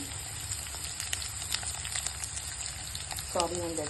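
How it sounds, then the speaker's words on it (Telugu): Green chillies fry for poha in a steady, hissing sizzle close by, and a short voice cuts in briefly near the end. "నెక్స్ట్ పచ్చిమిరపకాయలు వేగాక ఒక 1 మినిట్లో అవి వేగిపోతాయి"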